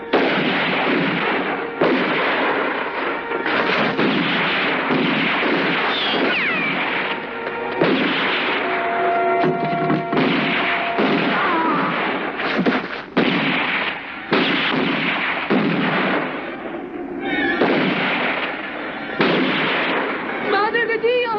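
Dense, continuous gunfire in a western action scene, loud volleys of shots and bursts under shouting voices and a musical score, with almost no pause.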